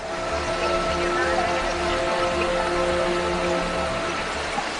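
Floodwater rushing through streets turned into rivers and drains after heavy rain in Chhapra, Bihar, a steady broadband roar of flowing water with a faint background hum throughout.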